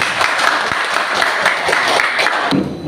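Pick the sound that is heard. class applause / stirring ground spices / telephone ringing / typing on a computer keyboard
class applause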